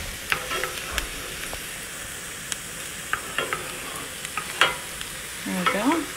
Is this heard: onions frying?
yes